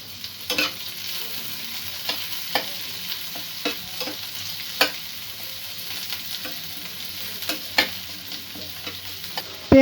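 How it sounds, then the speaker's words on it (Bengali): Green chilies with onion and garlic frying in oil, a steady close sizzle broken by scattered scraping clicks of a spoon stirring the pan, no voices. "পেঁয়াজ, রসুন ও কাঁচা লঙ্কা একটু ভাজা ভাজা করে নেব"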